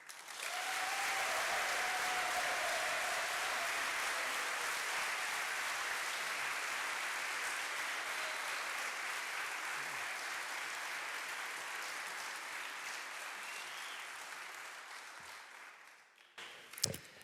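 A chapel audience applauds steadily to welcome a speaker, a dense, even wash of clapping lasting about sixteen seconds before it fades out and a faint thump follows.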